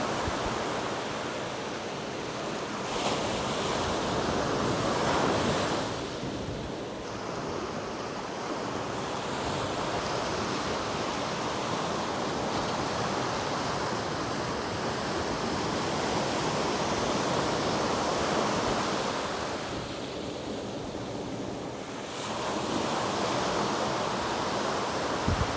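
Ocean surf breaking on a fishing beach, a steady loud roar of waves washing in with swells rising and falling, wind brushing across the microphone throughout, no voices.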